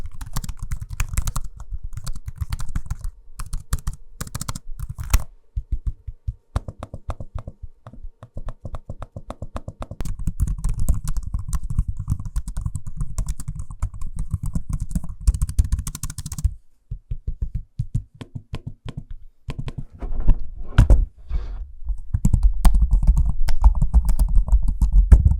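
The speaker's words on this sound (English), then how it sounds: "here's a quick sample of me using both the keyboards and trackpads so you can hear what they sound like for yourself" Typing and trackpad use on the Microsoft Surface Pro 11 keyboard and a PZ13 keyboard, dense runs of close, crisp key clicks in bursts with short pauses, no talking.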